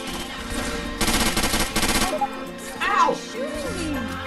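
Rapid bursts of automatic gunfire in the zombie game Left 4 Dead 2, two loud volleys close together with a short gap, then players talking and shouting over the game sounds.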